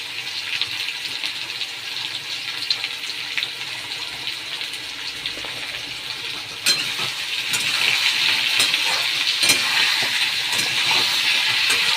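Vegetables fry with spinach in a pan, a continuous hissing sizzle that grows louder midway, with occasional sharp clicks of stirring over it.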